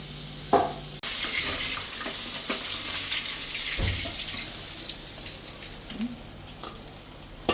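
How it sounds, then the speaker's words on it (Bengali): Tap water runs continuously into a sink as cut vegetables are washed, with faint sloshing and a few knocks and clatters of handling, a quiet sizzle of frying fish in the background. "এগুলো ধুয়ে পরিষ্কার করে নিই"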